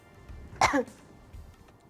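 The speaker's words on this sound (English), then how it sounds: "If you have to cough, please cough into your elbow, like this." A single short cough, muffled and close, breaks a quiet room, followed by faint rustling.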